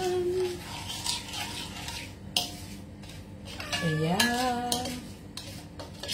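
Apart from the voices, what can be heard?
stirring a mixture until it dissolves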